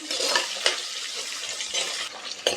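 Whole shallots for Pallipalayam chicken sauté in a pan over medium flame with a soft, continuous sizzle, broken by a few sharp clinks of a spoon stirring against the pan.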